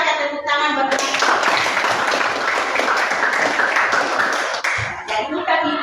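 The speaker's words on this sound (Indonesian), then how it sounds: "tepuk tangan buat mereka" Applause from a classroom audience fills most of the clip, loud and dense, with brief speech before and after the clapping.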